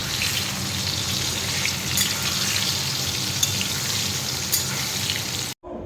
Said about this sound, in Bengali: এখন আমি বেগুন ভাজছি